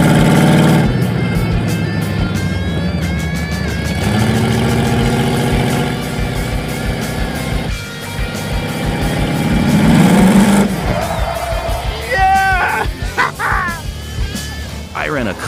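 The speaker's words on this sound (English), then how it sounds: "Our gutless rear-engine mini truck crushed the Kia on the autocross." A gutless rear-engine mini truck runs an autocross lap, its mid-pitched engine droning and revving steadily throughout, with people talking and shouting over it and some sharp higher squeals near the end.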